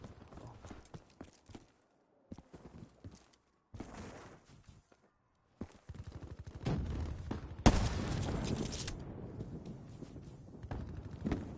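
Gunfire in a video game shooter starts as scattered, choppy shots broken by brief silences, then builds into a dense, continuous barrage in the second half, fairly close.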